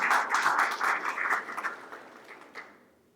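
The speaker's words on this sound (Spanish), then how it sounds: "Pedimos un fuerte aplauso para el ingeniero Eduardo Estrella" Applause from a conference audience at a university in the Dominican Republic greets engineer Eduardo Estrella, a dense wash of clapping that holds steady and then gradually thins and fades to quiet.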